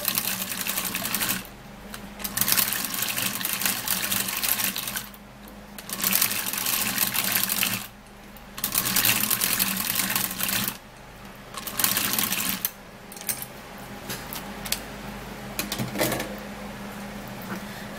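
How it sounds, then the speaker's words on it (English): A small manual blender mixer whirs while blending a skin mask, running in repeated bursts of a few seconds each, separated by short pauses, close and fairly loud. "Now I'll have to be getting my manual blend and mixer and mix it up really well."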